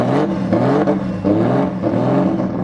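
A Nissan GT-R drag car engine revs hard at a GT-R festival, loud and close, rising and falling in repeated throttle blips with a harsh rasp.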